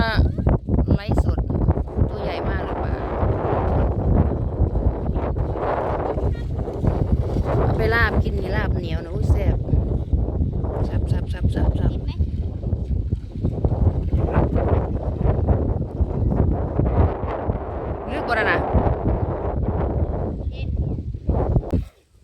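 Strong wind buffets the microphone outdoors near water on a fishing trip, a loud continuous roar throughout while people talk over it.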